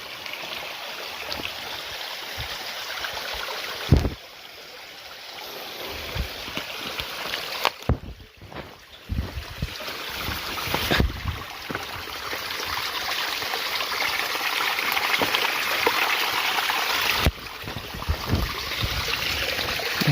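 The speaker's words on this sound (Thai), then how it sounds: "บรรยากาศที่มีน้ำห้วย ไหลปกติเนาะ สวยงาม" Water from a stream flows and trickles steadily, with occasional bumps and knocks from handling nearby.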